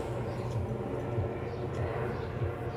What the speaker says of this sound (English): that was a helicopter. That was pretty loud.